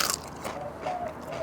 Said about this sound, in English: And just listen to that crunch.